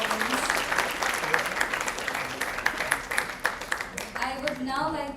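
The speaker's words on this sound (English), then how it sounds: "Let's give them a big round of applause for the outstanding performance." Leadership summit audience applauding after a performance, dense clapping that builds with sharp individual claps, then a voice begins speaking over the fading applause near the end.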